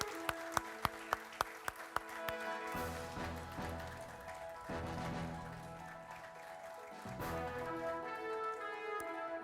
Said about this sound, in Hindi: आपकी तालियां थमनी नहीं चाहिए।